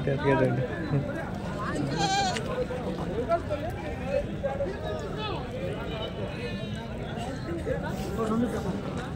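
Goats bleat amid the steady bustle of the Cheluru goat market in Karnataka, with overlapping animal calls mixed into dense crowd chatter throughout.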